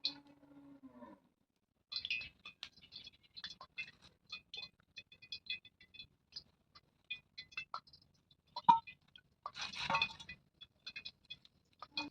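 Soft clinking and rattling of a utensil against a bowl while mixing bajji batter flour with water, irregular taps and scrapes with a brief louder burst of stirring, no talking.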